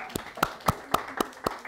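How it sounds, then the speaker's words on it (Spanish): A few hands clap in a slow, even rhythm, about seven sharp claps in under two seconds, close and distinct, with faint room noise beneath. "¡Aplaudirle, por favor!"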